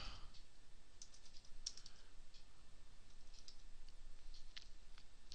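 Quiet clicking of typing on a computer keyboard, scattered irregular keystrokes in short bursts, faint and close.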